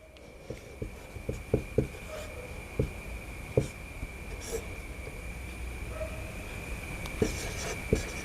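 Chalk or marker strokes and taps on a board during a trigonometry lesson come through as scattered, sharp, moderately quiet clicks and scratches over a steady electrical hum, with no voice.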